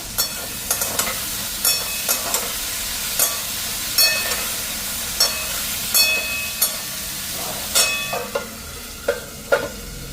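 Cauliflower pieces frying in a pan give a constant close sizzle, punctuated by regular sharp taps and clinks about every half second to a second, with no voices.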